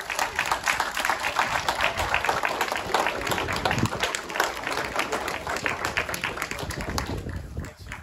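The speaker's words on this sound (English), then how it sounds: "Round of applause," Applause from the crowd after a house sells at auction, dense continuous clapping at steady volume for several seconds, fairly close.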